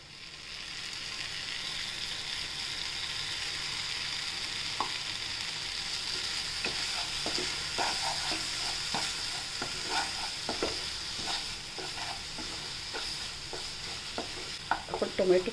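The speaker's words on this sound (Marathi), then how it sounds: "थोड्या वेळ आपण आता याच्यात सगळं मिक्स करून परतून घेऊया।" Vegetables with tomato, garlic and green chili sizzle steadily in hot oil in a pan, with repeated scraping stirs growing more frequent toward the end; close and continuous.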